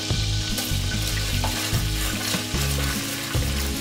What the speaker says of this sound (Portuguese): vou refogar colocando um pouco de alho